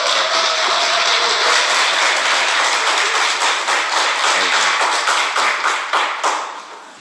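Church congregation applauding to welcome Brother Kim Sang-geun at a Wednesday evening service in Daegu, a dense, steady wash of many hands clapping that carries on for several seconds and thins out at the end.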